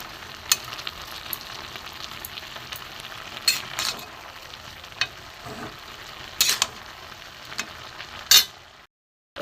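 Vegetable curry with cumin, coriander and grated ginger is stirred in a pan: a soft sizzle underneath with repeated sharp spoon scrapes and clinks at irregular intervals, close by, before a sudden cutoff to silence.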